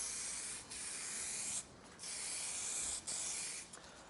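Spray gun laying a light clear coat over a carbon fibre wheel arch panel for an Alfa Romeo 159, a steady broadband hiss in close passes broken by three short pauses between strokes, no talking.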